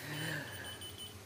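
A key finder alarm beeps in a steady high-pitched tone up close, with faint background noise behind it.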